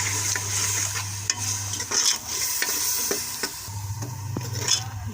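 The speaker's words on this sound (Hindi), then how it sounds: "एक आधा टमाटर और 2-3 हरी मिर्चें काट लेकर हम अच्छे से भून लेंगे।" Chopped tomato and green chillies frying in a pan for a whole masoor dal masala, with a steady close sizzle and intermittent stirring scrapes and taps.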